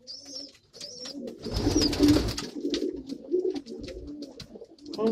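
Several homing pigeons coo in soft, repeated low bursts close by, forming a steady murmur that swells in the middle, with faint chirps above it.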